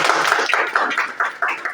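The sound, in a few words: audience clapping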